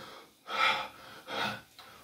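Two heavy, drawn-out gasping breaths after high-intensity exercise, each loud and close with a pause between, then a shorter third intake, no talking.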